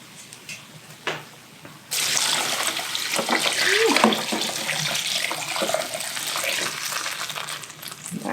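Homemade beef stock poured into a pot of caramelized onions for French onion soup, a sudden loud, continuous gushing pour that runs for several seconds, with brief voices before it starts.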